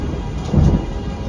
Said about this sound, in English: a bolt of white lightning, a great peal of thunder